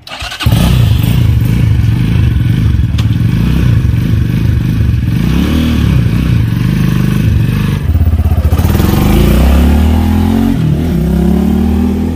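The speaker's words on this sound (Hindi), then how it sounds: "बाइक को करते हैं स्टार्ट।" A Kawasaki Ninja replica motorcycle, a 2022 model in Pakistan, fires up and idles loudly up close, then revs repeatedly with rising and falling engine pitch over about twelve seconds.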